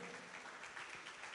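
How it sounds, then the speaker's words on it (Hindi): A congregation at a Pentecost sermon applauds in a continuous, even wash of clapping, fairly low in level and steady throughout. "जोरदार तालियां।"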